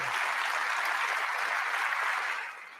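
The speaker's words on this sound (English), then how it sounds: "they're cheering for Fox News, I guess" A crowd cheers and applauds for Fox News, a dense roar of clapping and shouting that holds steady and then fades at the end.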